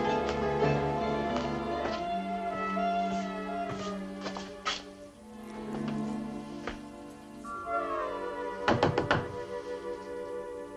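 Knocking on a door in the 1957 western Tennessee's Partner, several firm wooden raps in short bursts over a steady music bed, fairly close and clear, with no talking.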